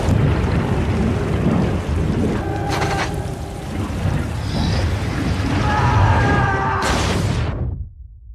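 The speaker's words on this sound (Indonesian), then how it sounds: "hujan deras pun tiba dan menyebabkan jurang di bawahnya banjir" Heavy rain pours steadily in a film scene with rumbling thunder, a continuous dense wash that fades out abruptly at the end.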